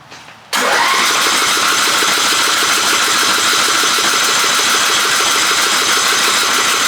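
A Yard Bug riding mower's small engine cranks and catches after a brief quiet start, then runs loudly and steadily close by with a buzzy, even rattle.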